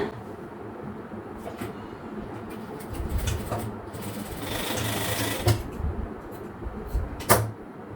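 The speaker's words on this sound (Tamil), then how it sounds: "இங்கேருந்து இங்கே தையல் போடணும்." A sewing machine runs a seam on a half-circle maxi dress with a princess cut, its motor whirring steadily up close with a few louder thumps, and faint speech here and there.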